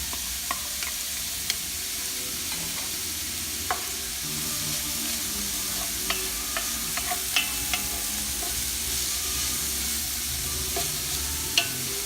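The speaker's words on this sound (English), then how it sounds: "Our garlic and onions and ginger are cooked." Garlic, onions and ginger frying in a pan for beef goto, a steady moderate sizzle with scattered sharp clicks and scrapes of stirring throughout, heard without talk.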